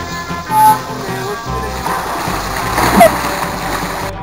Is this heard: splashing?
yes